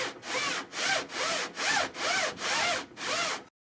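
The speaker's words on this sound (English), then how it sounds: "I run the carpenter's level with the sandpaper" A carpenter's level wrapped in 120 grit sandpaper rubs along a chalked wood edge, giving seven rhythmic back-and-forth scraping strokes, close and fairly quiet, before stopping abruptly.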